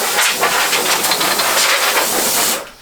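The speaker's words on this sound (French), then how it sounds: "ce que j'aime bien faire c'est toujours passer un petit coup de compresseur" An air compressor blows dust off a lawn mower engine, a loud, close, continuous hiss of compressed air with slight pulsing as the nozzle moves. It lasts nearly three seconds, then cuts off abruptly.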